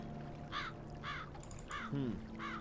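In the video game Black Mirror III, a bird caws four times in an even rhythm, harsh and fairly close, over quiet ambient music.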